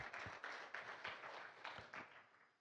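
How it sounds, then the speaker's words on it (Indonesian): A church congregation claps and applauds together, a faint, distant wash of many hands with a few sharper claps standing out, tapering off toward the end. "Tepuk tangan buat Tuhan."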